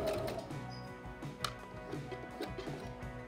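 A household sewing machine runs a straight stitch, giving a steady rapid mechanical ticking and whirring close by for a few seconds, with one sharper click midway and no talking.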